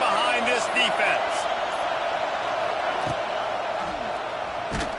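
A stadium crowd in an NCAA football video game roars steadily on a big third down, a broad sustained cheer with a few sharp thuds and whoops rising out of the din.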